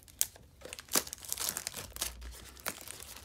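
Ripping open a 2020 Donruss football card blaster pack: crinkling foil and sharp tearing, close up, with a few louder rips and no voices.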